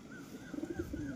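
A Lalmukhi female pigeon, white-eyed and on its first flight, gives a soft, close coo with a few throaty pulses rising and falling over a quiet background.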